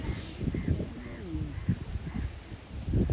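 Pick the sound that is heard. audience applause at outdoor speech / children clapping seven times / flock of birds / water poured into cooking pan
flock of birds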